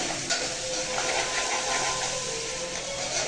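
Potato curry with salt and turmeric sizzles steadily in a pan while being stirred, a continuous close hiss with faint scraping movement underneath.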